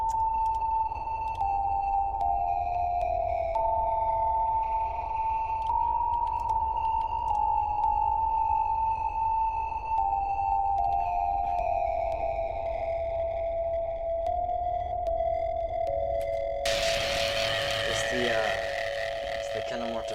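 Distorted, loud synth motif from a song made in FL Studio: a sustained tonal line stepping between pitches, then a harsh, buzzy burst of heavier distortion near the end, playing alone without talk.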